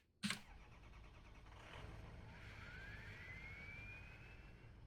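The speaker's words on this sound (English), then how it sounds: "Here is the Super Duty that I have, and they did keep the startup, so it sounds amazing." A Ford Super Duty pickup engine in a video game cranks over with a sharp starter burst, then settles into a steady low rumble as it idles, fairly quiet overall, with no talking.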